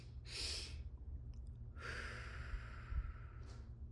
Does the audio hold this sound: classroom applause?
no